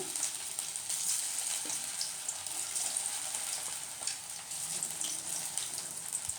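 Poha cutlets frying in a lightly oiled pan, giving a continuous close crackling sizzle with small popping spatters and no speech.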